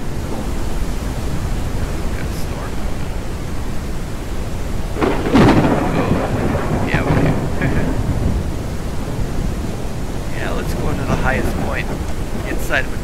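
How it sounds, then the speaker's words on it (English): Rain hisses steadily throughout a stormy scene in the survival game Mist Survival, and a thunderclap cracks midway and then rumbles on, with scattered brighter rain sounds continuing to the end. "Okay, we got some rain going on."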